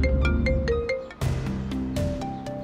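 A phone ringtone plays loud and close inside a car while someone is driving, a repeating melodic tone pattern cycling through several bursts.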